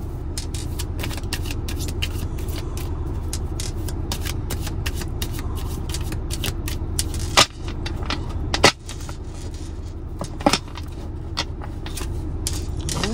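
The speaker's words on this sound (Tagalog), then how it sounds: "Balasahin muna po natin." Tarot cards are shuffled by hand in quick, steady riffling bursts, close and fairly loud, over a constant low hum, with a few sharper slaps and taps midway.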